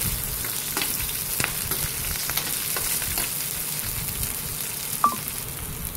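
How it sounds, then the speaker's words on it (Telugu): Fenugreek, coriander seeds, cumin, garlic and green chillies frying in oil in a bowl, a steady soft sizzle with a few light clicks and stirring taps, close and alone. "బౌల్ తీసుకొని ఆయిల్ పోసుకొని మెంతులు, ధనియాలు, జీలకర్ర, ఎల్లిపాయ వేయించుకొని పచ్చిమిర్చి తీసుకొని వేయించుకోవాలి."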